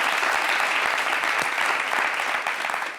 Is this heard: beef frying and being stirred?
no